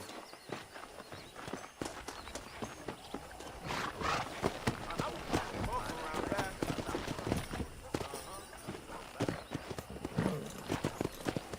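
Horses being wrangled in the video game Red Dead Redemption: repeated hoof clip-clops and occasional whinnies under ongoing character talk, with scattered footsteps and movement.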